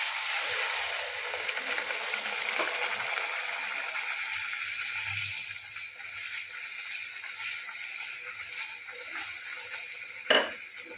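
Masala pitha (papchi) dough fries in hot oil, giving a continuous soft sizzle and bubbling hiss that eases slightly partway through, with a brief clack of a utensil near the end.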